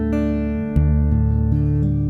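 An acoustic guitar in standard tuning strummed in a few quick, rhythmic chord strokes, bright and close, ringing out without any voices.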